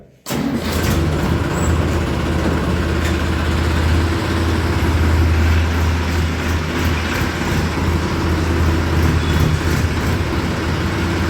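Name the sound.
tractor engine running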